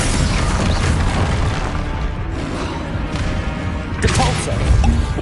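Confringo blasting spell going off in a Harry Potter video game, a dense, loud continuous roar of booming explosions and crashes, with a fresh burst swelling near the end.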